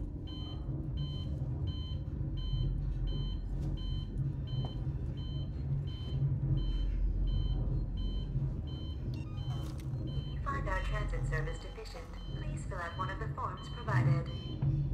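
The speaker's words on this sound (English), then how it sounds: "Why is it beeping like that? Does it always beep that way?" Repeated electronic beeping from the motion tracker in the sci-fi horror game Alien Isolation, a steady pulsing tone over a low ambient rumble, with a player talking over it.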